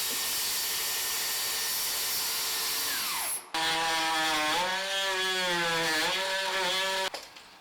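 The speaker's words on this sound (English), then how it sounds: "we'll come through and cut the joists right on either side of that" A power saw cuts through wooden floor joists during framing work with LVL beams. Loud, steady motor whine rises and dips under load, breaks briefly partway through, then resumes close-up until it stops abruptly near the end.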